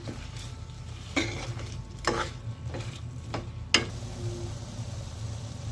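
Brinjal and drumstick are stirred into a fish curry in a pan, giving a few soft scraping strokes of a spoon against the pot over a low background hum.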